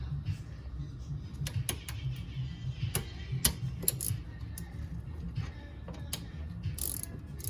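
Close metallic clicks and ratcheting from a wrench tightening a rear brake caliper bolt on a 2008 Acura TL Type S, irregular ticks over a low mechanical rumble.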